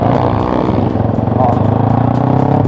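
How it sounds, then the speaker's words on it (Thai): A powerful car engine fires up and runs loud and close, a throbbing, pulsing rumble with rough mechanical clatter that keeps going without a break. "ติดเครื่อง"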